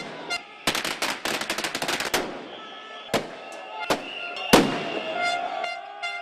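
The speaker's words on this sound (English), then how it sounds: "Firecrackers," Firecrackers burst at a street protest by airline workers in front of the company's headquarters in Madrid, a rapid crackling string of sharp bangs followed by several separate loud blasts amid crowd noise.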